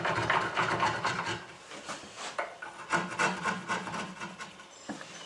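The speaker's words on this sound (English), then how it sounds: "I'm just going around the edges just to give them a chamfer" A hand corner-rounding tool chamfers red oak board edges in close, continuous scraping and rasping strokes, each pass rough and uneven, with a sharp tick near the end.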